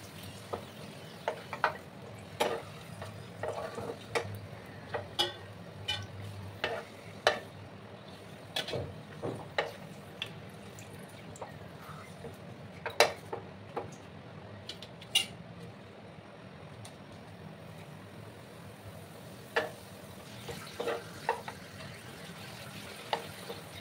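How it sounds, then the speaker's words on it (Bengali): Papad, or poppadoms, frying in hot oil in a pan: a faint steady sizzle broken by scattered sharp crackles and pops, close but quiet. "সেম একই প্রসেসে আমি সমস্ত পাঁপড়গুলো ভেজে নেব।"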